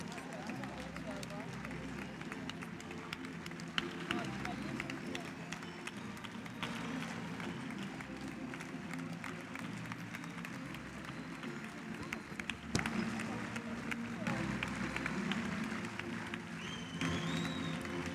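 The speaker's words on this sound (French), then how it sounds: "vous allez pouvoir donner vos applaudissements avec la numéro 1" Audience at a show jumping arena clapping in time to music, a steady dense rhythmic applause running throughout beneath a loudspeaker announcer's voice and background music.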